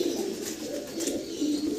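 Fancy pigeons in a breeding loft coo softly and continuously, with low throaty calls overlapping close by and no talking.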